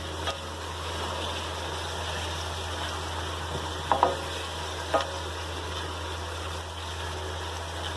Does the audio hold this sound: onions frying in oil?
yes